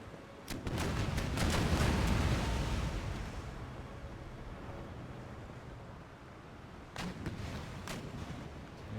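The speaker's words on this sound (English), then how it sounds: "First broadside taken by the Austrian Navy. Our return fire to follow." Naval cannons in Empire Total War fire a broadside, heavy booms rolling out one after another over a washing sea, then a second rapid cluster of distant thuds after a lull.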